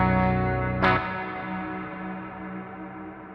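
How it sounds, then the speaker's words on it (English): A sustained instrument drone sits under a very long reverb, with a sharp bright transient near the start that blooms into a wash of ringing tones that decay slowly and smoothly over several seconds. "I have a very long reverb."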